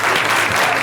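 Sustained applause from a studio audience on a Macedonian talk show, dense steady clapping that fills the whole moment at close, loud level with no pause.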